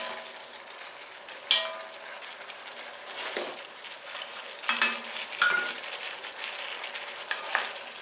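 Cauliflower stirred in a hot pot while it sizzles, for a cauliflower soup: a steady fry hiss with several scraping spoon strokes close by, no talk.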